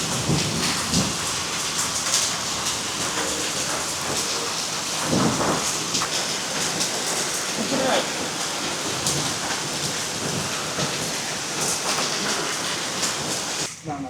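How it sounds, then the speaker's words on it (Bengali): Heavy rain pours steadily onto a thick roof at an old palace building in Gazipur, a dense unbroken wash of noise that stays loud for the whole stretch. "মানে বৃষ্টির পানি পড়ে, এখানে যদিও এগুলো অনেক মোটা যার জন্য খুব বেশি শব্দ হচ্ছে না"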